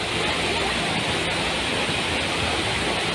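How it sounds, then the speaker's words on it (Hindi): Rushing floodwater pours down a street in heavy rain in Mussoorie, a loud, steady broadband roar of torrent with no pauses. "पानी की तेज धार उसे बहा ले जाना चाहती है।"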